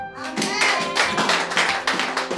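A church congregation claps in acclaim of Jesus, a dense run of sharp, loud hand claps in a quick, irregular rhythm, close by, with some voices mixed in.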